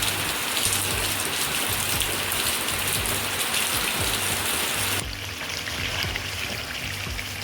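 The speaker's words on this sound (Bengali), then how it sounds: "তার মাঝেই দেখো কীরকম বৃষ্টি।" Steady rain falls outside on a cool, wet day, a dense even hiss of drops on surfaces that runs throughout and drops slightly in level near the end, with no voices.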